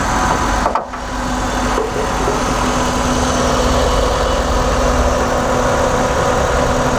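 A petrol car engine idles steadily and loudly, a constant mechanical drone with a brief thump near the start and no talking.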